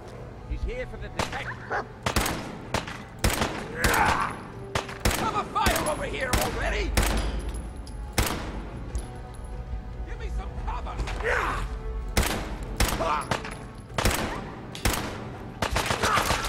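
Gunfire rings out during Fallout 4 gameplay, with repeated sharp shots in irregular bursts throughout, mixed with in-game voices and other game sounds, loud and close.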